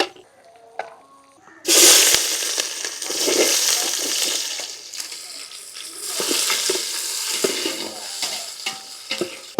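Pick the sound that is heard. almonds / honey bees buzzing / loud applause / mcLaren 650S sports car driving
almonds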